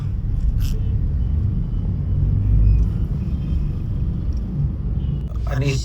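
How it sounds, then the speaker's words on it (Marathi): Mumbai road traffic heard from inside a car stuck in a city jam on a hot day: a steady, heavy low rumble of engines and road noise runs throughout, with faint passing vehicle sounds above it. "ट्रॅफिक बघा."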